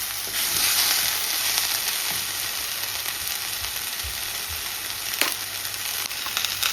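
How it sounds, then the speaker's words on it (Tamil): Chunks of eggplant and large-cut tomatoes sauté in a pan, giving a continuous close sizzle with a few soft scrapes and clinks of stirring. "தக்காளியையும் சேர்ந்து வதங்கி வரட்டும்."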